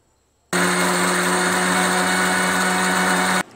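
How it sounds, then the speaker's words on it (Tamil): A mixer grinder grinding mustard chutney made with roasted coconut starts abruptly and runs at a loud, steady, high-pitched whine for about three seconds before cutting off, close and heard alone. "இப்போ நம்ம சட்னி அரைச்சிடலாம்."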